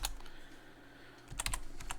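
Keystrokes on a computer keyboard as a command is typed into a Linux terminal: a few scattered clicks, then a quick burst of several taps near the end, close and fairly quiet.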